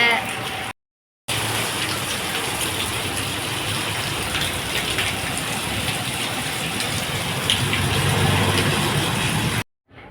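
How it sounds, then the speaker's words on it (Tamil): Heavy rain pours down steadily outside a temple in Tirunelveli, a dense, continuous rushing hiss broken only by brief gaps. "பார்த்தா சரியான மழை"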